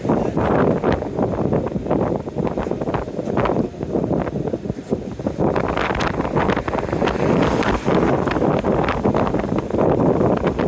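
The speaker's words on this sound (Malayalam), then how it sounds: "നല്ല രീതിയിൽ കാറ്റടിക്കും കേട്ടോ" Strong sea wind batters the microphone in loud, continuous gusts, a rough buffeting roar that swells and dips throughout.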